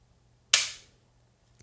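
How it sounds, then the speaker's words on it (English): Single-action trigger pull on a Heckler & Koch HK45C Compact Tactical pistol, one sharp, crisp snap up close, followed by a fainter small click a second later. "The brake is very crisp for an H&K. I'd call the single action pull excellent."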